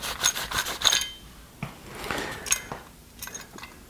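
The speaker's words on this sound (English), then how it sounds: "I like to wipe this down first." A cloth rubs and wipes along a metal rail on an Mk18 Mod 0 rifle upper, giving soft, close, irregular scraping strokes with short pauses between them.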